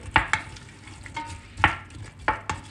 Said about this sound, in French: Et je vais mettre les 2 oignons que j'ai coupés dans l'huile